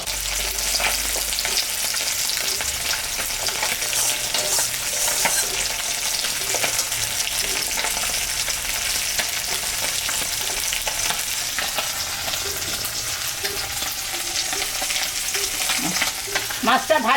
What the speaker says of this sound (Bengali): মাছটা ভাজা হয়ে গেছে, আমি এখন তুলে নিচ্ছি।